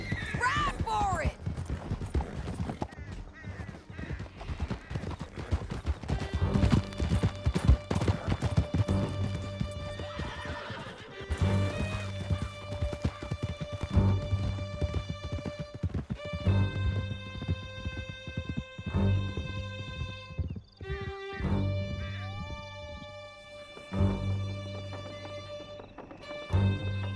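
Horses galloping hard in Red Dead Redemption 2, a dense, loud, continuous patter of hooves with a horse neighing and a voice shouting over it, backed by tense music.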